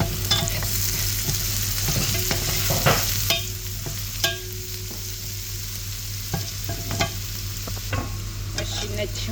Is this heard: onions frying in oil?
yes